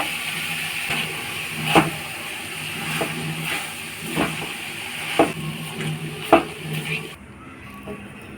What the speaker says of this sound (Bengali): ফ্রুটসগুলো ভেজে নিয়েছি তার সাথে ছানাটাকে নেড়ে নেবো